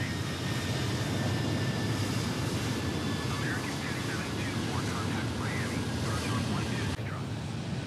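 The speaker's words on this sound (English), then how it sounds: "Next is this Delta Airbus A320 taking off runway 9." A Delta Airbus A320 taking off in Microsoft Flight Simulator 2020 at Miami International, a steady loud roaring jet engine rumble with a faint whine running throughout, dipping slightly near the end.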